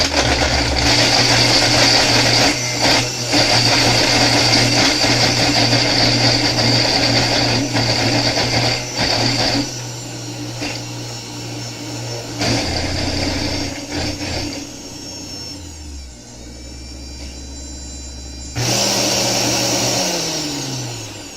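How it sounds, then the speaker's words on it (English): A kitchen blender whirs loudly and steadily, its motor pitch shifting as the load changes, briefly easing off before roaring back up. "my handy kitchen-made blender should eat that like it eats everything else"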